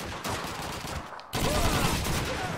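Gunfire in the World War II shooter Call of Duty 2 comes in a couple of sharp bursts amid noisy battle ambience, with a short lull before the shots resume.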